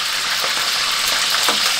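Food sizzles in a hot pan, with tofu and vegetables frying, giving a steady, close, hissing crackle throughout with no voices.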